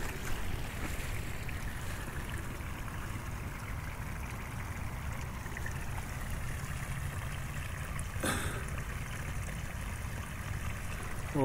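A steady, rushing wash of flowing water, constant and fairly loud, with a faint knock partway through.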